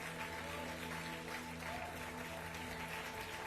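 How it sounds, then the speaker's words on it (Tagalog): A church congregation applauds in a steady, distant wash of clapping that stays faint and even throughout, with a low electrical hum beneath it. "pinakamalakas na palakpak pa sa Panginoon"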